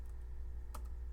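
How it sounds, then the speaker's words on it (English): A few quick keystrokes on a computer keyboard while entering a web address, close and quiet, with a brief cluster of clicks near the end over a low steady hum. "I'm going to type in"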